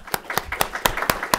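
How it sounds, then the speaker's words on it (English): Scattered hand claps from a small audience at a talk on dams and sustainability in China, about six distinct sharp claps spaced irregularly over a second and a half, fairly close and thin rather than a full ovation. "some applause there."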